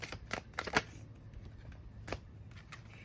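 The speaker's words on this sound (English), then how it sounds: "Let me get 3 cards, please." Tarot cards from a circus-themed deck being drawn and shuffled, a few crisp papery flicks and snaps clustered early, then one more card pulled a moment later, close and fairly quiet with no talking.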